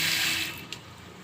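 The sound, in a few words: hot tap water running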